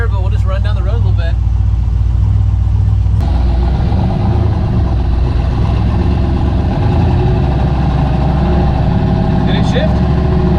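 A Ford F100 with a turbocharged LS1 V8 idles in gear, a loud, steady, deep rumble close up that holds throughout, with a short clunk partway through.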